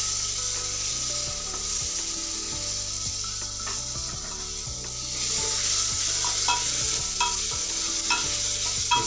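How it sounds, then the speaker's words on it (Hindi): Potatoes and tomatoes go into a hot pan with turmeric for a broken wheat daliya, giving a steady close sizzle with repeated rhythmic stirring and scraping against the pan; no talking. "हल्दी पाउडर हम आधा चम्मच यूज़ कर रहे हैं और इसी के साथ में हम आलू और जो टमाटर है वो भी हम इसमें ऐड कर"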